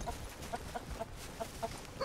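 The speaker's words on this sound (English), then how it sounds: "My chicken companion, where are you going?" A chicken companion in the video game Red Dead Redemption 2 clucks repeatedly in short, evenly spaced bursts, moderately close over a soft outdoor game ambience with no talking.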